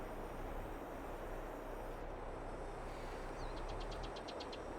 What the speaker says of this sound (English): So you get into the tractor